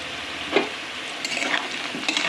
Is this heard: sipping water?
no